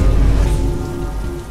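Stormy winter rain falls steadily as a dense, loud hiss of drops hitting surfaces, with a low rumble underneath and no voices.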